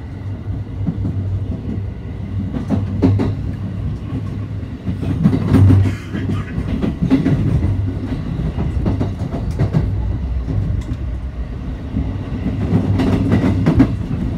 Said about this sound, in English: Some footage of the train.